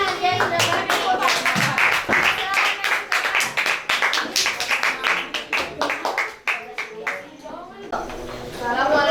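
A group of people clap their hands in a school or classroom setting, sharp dense claps, fairly loud and close, with a few brief voices mixed in.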